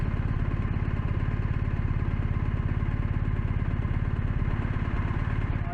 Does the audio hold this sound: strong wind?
no